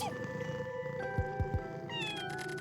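Cat meows in a video game: three short, close meows in quick succession over a steady game music bed, followed by higher chiming tones near the end.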